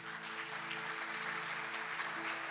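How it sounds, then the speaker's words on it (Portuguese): Church congregation applauding during a Sunday service, a steady, dense wash of clapping that fills the room evenly for a few seconds with no speech over it. "Dê um aplauso para Jesus."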